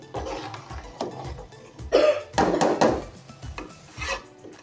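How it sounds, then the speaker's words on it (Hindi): A spoon stirs potato bhujiya with garam masala in a pan, giving soft intermittent scrapes and clinks, with a louder burst of scraping midway before it settles back to gentle stirring. "अब मैं इसको मिक्स कर लेती हूँ इसके अंदर"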